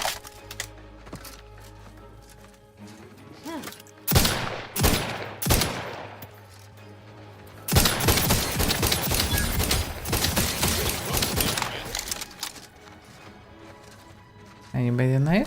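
Enemy gunfire in The Outer Worlds 2, a few loud separate shots, then a dense rapid burst of automatic fire lasting several seconds, with a voice talking before and between the shooting.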